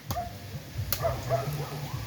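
A few faint, distant dogs bark and yip in short bursts across a quiet outdoor background, with no one talking.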